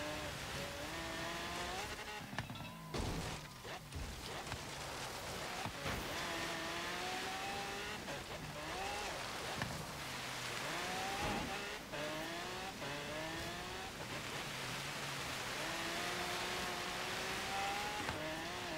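A 2017 Ford GT in Forza Horizon 3 climbing a snowy mountain hill course, its engine revving hard through repeated upshifts with rising pitch sweeps, plus occasional tire squeal, loud and continuous with no voices.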